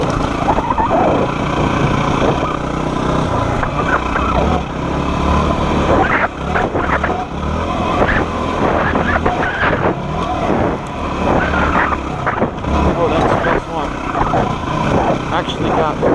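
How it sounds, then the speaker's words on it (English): Dirt bike ridden along a forest trail off a logging road, its engine droning steadily and close with throttle surges and rough bumps throughout, wind noise heavy over the whole ride. "I rolled off the throttle and the back end came up again."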